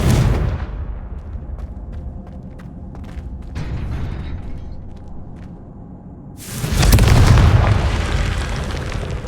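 The Confringo spell in the Hogwarts Legacy video game lands as a sudden loud blast about two-thirds of the way through. It follows a stretch of quieter creaking mechanisms and soft clatter.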